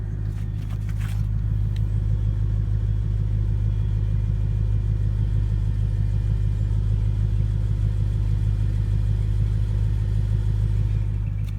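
A BMW E92 M3 with stock exhaust idles steadily, a low, smooth, even rumble held close to the car with no revs, just a faint click near the start.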